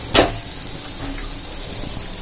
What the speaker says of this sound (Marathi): हे आता फ्राय करून घेते